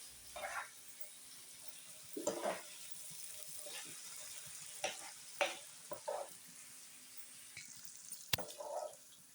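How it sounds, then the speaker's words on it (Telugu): Chicken frying with chilli powder in a pan, a soft sizzle broken by scattered scraping stirs and clinks, faint and close, with occasional quiet talk beneath it. "పొడి వేసిన తర్వాత ఐదు నిమిషాలు వేపుకోవాలి ఫ్రెండ్స్"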